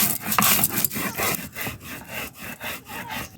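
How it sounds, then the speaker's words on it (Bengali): Cumin and coriander seeds being ground into a paste by hand, a steady rhythmic scraping and rubbing of stone on stone, repeated strokes close and fairly loud with no talking. "এখানে নিয়েছি জিরে, আমি বেটে নেব ধনে"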